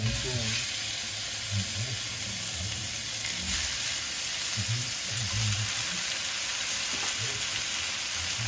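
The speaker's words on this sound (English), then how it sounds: "We'll fry the meat in first. Meat. Ooh, it's sizzling already." Steady, close sizzling and crackling of Italian ground sausage meat frying in a hot pan, with occasional stirring scrapes and no talking.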